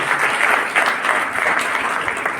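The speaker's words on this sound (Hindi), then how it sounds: "एक बार जोरदार ताली बजती" A university audience claps loudly and continuously at a placement event, dense applause from a nearby crowd throughout the short span with no voices over it.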